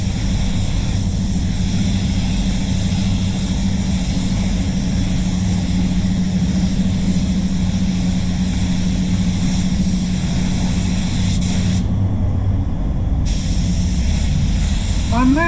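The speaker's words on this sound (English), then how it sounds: "May as well put some clear over this back panel now." Spray gun applying clear coat to the back panel of a Lexus IS250, a steady close hiss of compressed air and atomized paint running continuously, briefly interrupted near the end.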